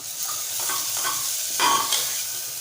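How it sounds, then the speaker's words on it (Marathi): Spices for sprouted chana usal fry in oil while being stirred, giving a steady close sizzle with soft scraping strokes of a spoon against the pan and no voices. "छान तेल सुटेपर्यंत मसाले परतवायचे"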